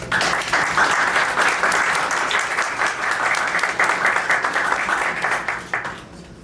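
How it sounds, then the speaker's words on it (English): A demo-day audience applauds mentors at a startup accelerator event, with steady, dense clapping throughout that fades near the end. "let's give it a round of applause for mentors"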